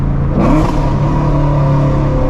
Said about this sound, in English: Oh my God, the downshifts!